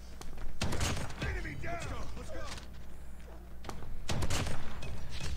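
Hip-fired gunfire from a Shorty shotgun in Call of Duty Mobile: several sharp, loud shots scattered across the clip, interleaved with a player talking excitedly.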